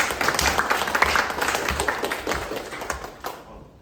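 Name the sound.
audience applause welcoming a speaker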